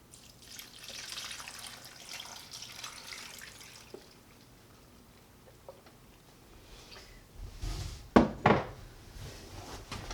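Water is poured into a cooking pot to make tomato paste in a tiny house kitchen. After a quiet stretch, a short, loud, splashy pour comes close up near the end.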